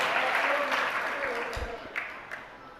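Applause from an audience at a Jain religious discourse, a dense wash of clapping that gradually thins out, with a few louder claps near the end.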